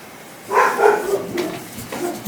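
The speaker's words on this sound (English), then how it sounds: "The dog barks again because people are in the front yard." A dog indoors barks at people out in the front yard: one loud, fairly close woof followed by quieter yips and whimpering noises, with no talk.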